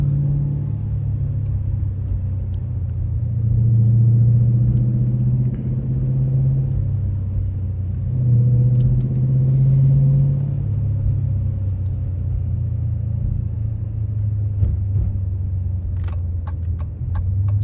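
A Dodge Challenger Scat Pack on a night drive, its engine a steady low rumble heard from inside the car, swelling slightly around a few points of acceleration, with no talking.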